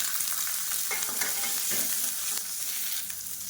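Peppercorns, garlic, ginger and small onions frying in oil in a pan give a loud, dense, continuous sizzle with faint stirring scrapes, close up and with no talk.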